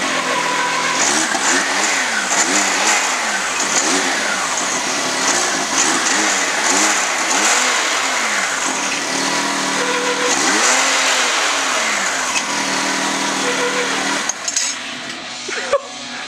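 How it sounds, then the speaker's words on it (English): A just-started engine, likely a car's, is revved hard again and again in loud rising and falling sweeps, close by, over a steady idle for most of the stretch, by a lake with cliffs. "You literally just started it and fucking revved the shit out of it."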